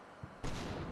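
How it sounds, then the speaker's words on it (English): Mortar shells bursting in the air in the Combat Mission Shock Force 2 war game, a single loud close blast that cuts in sharply over a rumbling battlefield background and rolls on. "How are these mortars landing?"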